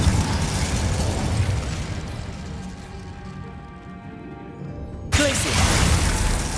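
In the Hogwarts Legacy video game, an Incendio fire spell goes off as a sudden whooshing burst, with a sustained roaring fire swell that fades and a second blast that erupts near the end.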